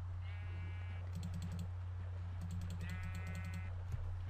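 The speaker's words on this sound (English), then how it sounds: "Let's punch a sheep." Sheep bleating in Minecraft, two drawn-out bleats a few seconds apart over a steady low hum, with bursts of rapid keyboard clicking between them.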